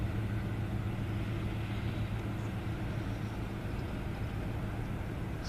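CN freight train M357 with a five-unit locomotive lashup pulling away at Ladysmith, Wisconsin: a steady, low diesel rumble at a distance, even and unbroken, with no voices.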